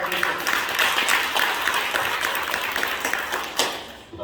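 A church congregation at a workplace-mission conference in Seoul claps for a pastor, a dense, steady burst of applause filling the hall for about four seconds with a faint voice at moments.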